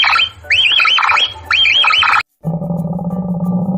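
A capybara gives repeated squeaky, chirping whistles in two quick groups, followed after a brief silence by a steady, lower buzzing tone.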